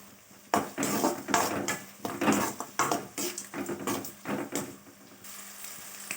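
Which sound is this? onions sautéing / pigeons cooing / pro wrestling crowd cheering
onions sautéing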